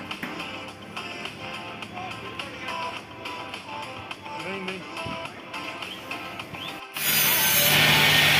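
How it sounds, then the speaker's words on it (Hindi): Screws being driven into the profile sheet of a steel gate, giving a steady run of ratcheting, clicking mechanical sounds that jumps into a much louder, harsher tool burst for the final second and a half. "प्रोफाइल सीट दी फिटिंग हो चुकी है, इस विच स्क्रू"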